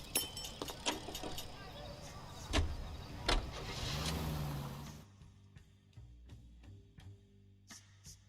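A car engine in the video game L.A. Noire rumbles up and runs steadily for a few seconds, then drops to a quieter idle. Light mechanical clicks sit over the engine sound.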